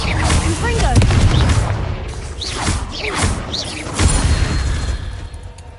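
Confringo blast spells from Hogwarts Legacy explode in a few booming bursts with whooshing tails, spread across a busy, continuous mix with a voice talking underneath.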